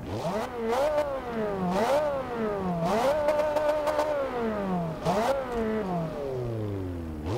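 A Ferrari 360 engine in a racing video game revs up and down repeatedly, its pitch climbing and dropping in several quick cycles, close and clear.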